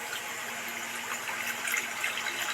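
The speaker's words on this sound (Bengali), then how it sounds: "এবার একটা পাত্রে জল ঢেলে দিচ্ছি।" Water pours steadily into a bowl in a home kitchen while Centella leaf pakoras are being prepared, giving a continuous, fairly close splashing gush with no talk.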